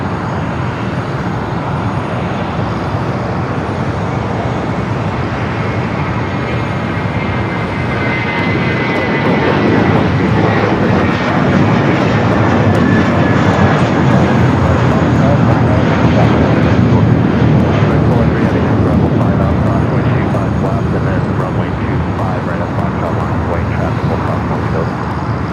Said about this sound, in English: A330-300 heading back to Dublin.